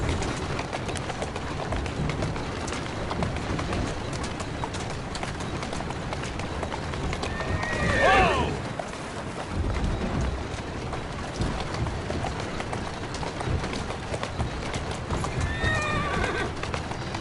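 In the video game Assassin's Creed Syndicate, a horse whinnies once midway, with a second shorter neigh near the end, over steady clip-clopping hooves and a constant background wash.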